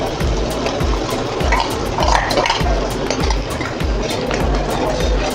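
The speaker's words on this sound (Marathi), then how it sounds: "आता हे टाकते आपण आपण जी डाळ शिजवली ती टाकूया" Thick cooked dal is tipped into onion-tomato gravy in a pot for dal tadka, with repeated dull thumps and scraping of a spoon against metal over a steady, busy background.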